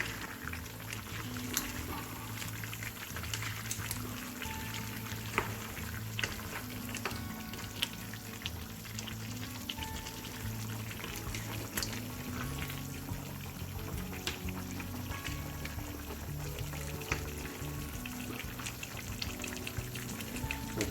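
Chicken karahi with tomatoes stirred and frying in a pan, a steady sizzle and crackle with occasional scraping from mixing, continuous and close, with no voices.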